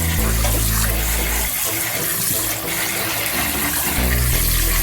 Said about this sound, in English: let's wash off our veggies